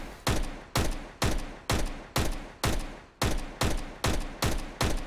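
A Tec-9 pistol fires in Counter-Strike: Global Offensive, eleven sharp, evenly spaced shots at a steady semi-automatic rhythm, each close and loud with a short decaying tail, no voices.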